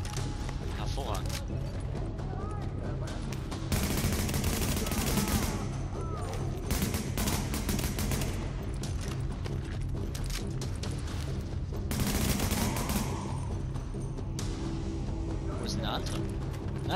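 Rapid bursts of gunfire in The Division video game crackle almost continuously, with loud dense stretches and brief lulls, under constant music and effects.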